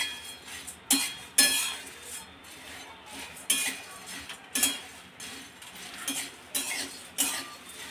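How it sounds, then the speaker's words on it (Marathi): Chivda ingredients being tossed and roasted in a hot metal kadhai, with repeated scraping and clinking strokes of a ladle against the pan, moderately close, in an even stirring rhythm. "आता आपण ते थोडेसे या गरम कढईमध्ये भाजून घेणार आहोत"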